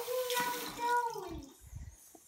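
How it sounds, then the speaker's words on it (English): Water poured from a tap to fill a container, a short, fairly quiet gush with rising tone and a few small splashes at the end, while a person speaks over the start. "I'm going to just fill up some more water"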